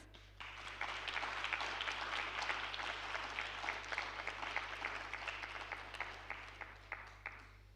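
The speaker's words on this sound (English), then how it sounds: "I think we should applaud the graduates." Sustained applause from the audience at a university graduation ceremony for the law, economics and finance faculty, fairly distant and faint, with a steady crowd of clapping that thins slightly toward the end.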